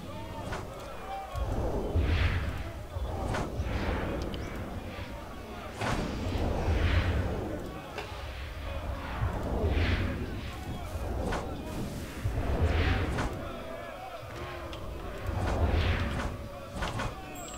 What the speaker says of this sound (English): Now the catapults start firing.